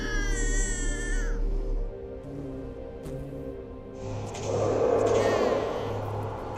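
An infant cries in wailing bursts, one at the start and a stronger one later, over a low steady background drone.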